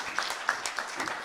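A brief burst of audience applause at a French awards audition event, a few distinct claps with a rhythmic pulse, moderately loud and fading quickly.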